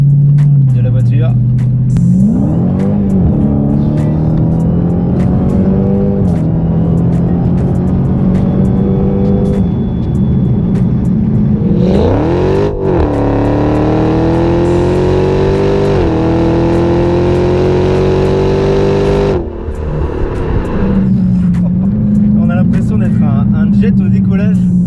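A 707-horsepower 2016 Dodge Challenger Hellcat with its supercharger, in sport mode, idles in a deep rumble, then roars through hard acceleration with rising whine and gear changes, loud and close from inside the car, with people talking over it.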